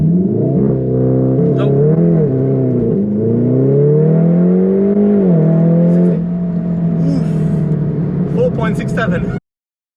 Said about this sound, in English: We just want to see what the 0 to 60 is on these cars.